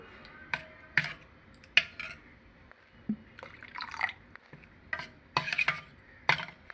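A spoon stirring curd chutney (perugu pachadi) in a bowl: soft wet clicks and scrapes in an irregular rhythm, close and quiet.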